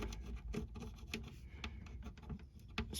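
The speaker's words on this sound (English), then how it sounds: "Using the back side of it to just burnish the top of the spline." The back of a razor blade burnishes a spline in a crack on the top of a Yamaha FG acoustic guitar, giving soft, close scraping rubs in short irregular strokes with no talk.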